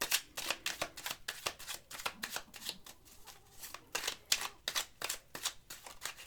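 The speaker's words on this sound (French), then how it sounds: "Je vais mélanger les deux jeux d'abord." Two decks of tarot cards are shuffled in turn, making quick, steady riffles and flicks of card stock. The shuffling is close and even, repeats throughout, and has no talking over it.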